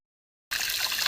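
Fried biuli dal is rinsed with water, which pours and splashes close by in a short, uneven trickle after a moment of silence, without any talking.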